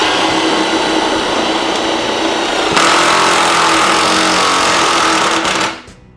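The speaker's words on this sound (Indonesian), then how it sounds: "untuk yang lebih keras lagi kalian mungkin perlu untuk menggunakan impact ya. Jadi kita coba untuk pemasangan roofing" A Mollar 20V brushless cordless impact driver runs loudly and continuously for several seconds driving a roofing screw, its pitch shifting partway through, then it winds down and stops.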